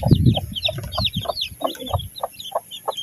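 A hen clucks in a steady series of short, close calls on a farm, with higher chick peeps scattered through the background.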